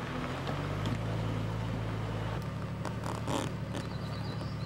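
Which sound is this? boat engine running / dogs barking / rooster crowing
boat engine running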